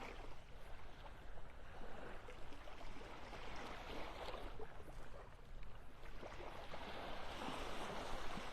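Ocean surf washes onto a beach in North Naples, Florida, in a light breeze, giving a soft, continuous rushing wash with gentle swells that stays fairly faint and even throughout, with no voices.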